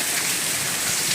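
Heavy rain pours steadily in Dumra, Kutch, a dense, even hiss of drops with no pauses, close and loud throughout the short stretch.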